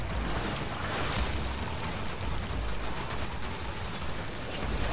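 A Latron Wraith rifle fires in the game Warframe, a dense, continuous roar of gunfire and impacts that stays loud for about five seconds, with no voice over it.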